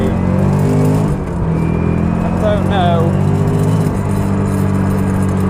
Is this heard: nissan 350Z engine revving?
yes